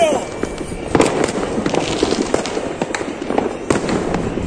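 Christmas fireworks in Florida, Uruguay, crackle and pop in rapid, uneven bursts close by, while people talk over the noise.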